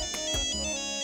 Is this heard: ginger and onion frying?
no